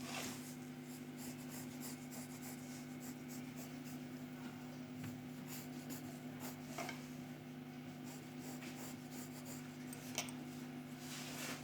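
Soft, continuous scratching and rubbing of a pencil on paper while drawing an aeroplane's wing, faint and close, with occasional light taps over a steady background hum.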